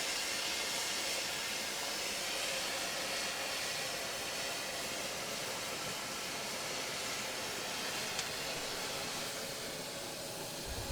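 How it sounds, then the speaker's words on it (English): Steady, loud hiss of steam rushing out of a steam box for bending wooden boat planks, continuous and unbroken throughout with a faint low rumble beneath. "She's pumping steam."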